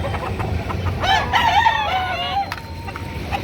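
A rooster crows once, loud and near, among other chickens at a livestock auction market, over a steady hum of background crowd and market noise.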